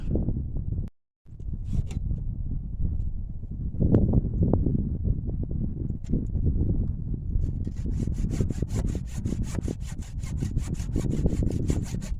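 A hand saw cuts steadily through a peach tree branch during late-winter pruning, loud and close, with rapid rhythmic strokes that quicken toward the end, broken by one brief pause early on.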